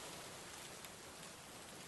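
Rain pours steadily over a garden planted with basil, a dense, even hiss of drops with no pauses, separate hits or voices.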